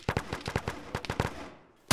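Rapid gunfire in the ShackTac military video game: about a dozen sharp, loud shots in quick bursts, then a brief lull and one more shot at the end.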